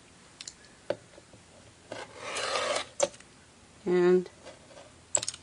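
Fabric is cut for a half rectangle triangle quilt block in a few short, quiet scraping strokes, separated by soft taps and pauses, with a brief voice heard.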